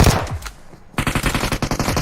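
Rapid automatic gunfire sprays in PUBG Mobile during a competitive esports match, a short burst followed by a dense, loud run of closely spaced shots.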